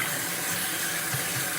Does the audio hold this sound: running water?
yes